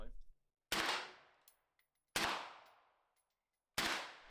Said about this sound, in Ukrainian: Постріляємо кілька патронів і подивимось на результат